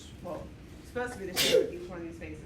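A single sharp sneeze bursts out in the middle of a person speaking, loud and brief, with talk continuing right after it.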